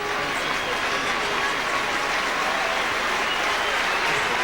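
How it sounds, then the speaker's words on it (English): A rugby league crowd at a St Helens match applauds as a distant, steady wash of clapping and crowd noise, continuous and even throughout. "Generous applause from the St Helens crowd for Smith and the rest of them"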